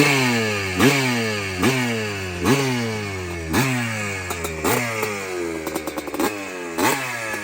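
A 1981 Yamaha YZ250H motorcycle, restored, runs close and loud, its two-stroke engine revving up and dropping back in repeated blips, with a raspy, crackling exhaust between the pulls. No one speaks.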